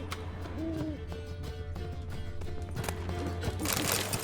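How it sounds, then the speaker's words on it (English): In The Witcher 3: Wild Hunt, an owl gives a soft hooting call, faint and somewhat distant over steady game ambience and scattered light clatter, with no voices. "Oh, poor owl."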